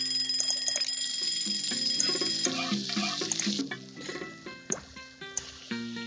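Kitchen timers in the Papa's Taco Mia cooking game ring repeatedly in high bright tones, set against busy game music and clicks.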